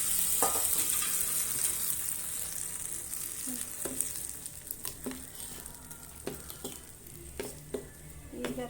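Urad dal tempering sizzles in hot oil for peanut chutney, a soft hiss broken by scattered taps and scrapes from stirring, faint and close with no voices.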